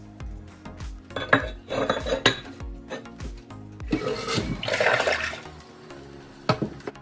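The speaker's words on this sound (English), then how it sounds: "Now let's put the lid on and give it a good flush." A newly replaced toilet flushes with a loud, rushing surge of water in uneven gushes that builds to a peak, then gurgles and trails off, close and without talk.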